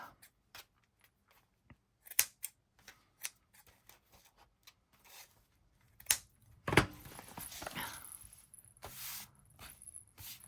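Scissors snip the threads of a handmade boho tassel at close range, a scatter of sharp, quiet clicks and cuts, with a louder rustling burst near the middle.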